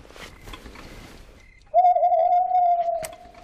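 A single drawn-out owl hoot, steady and fairly loud after a quiet lead-in, sounding alone in a hushed night-time setting with no talk.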